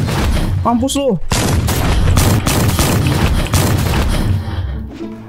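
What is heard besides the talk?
gunshots in Roblox video game A Bizarre Day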